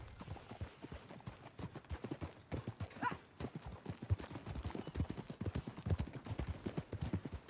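In Red Dead Redemption 2, horse hooves clip-clop in a steady, quick rhythm for several seconds, close and clear over a soft outdoor ambience.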